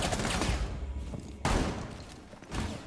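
The SGCQV shotgun fired in a shooter video game: three loud, booming blasts, each followed by a decaying rumble, spaced about a second apart, with no talk over them.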